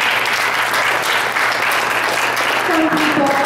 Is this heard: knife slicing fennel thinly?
no